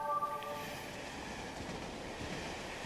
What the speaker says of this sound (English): That train would have killed me.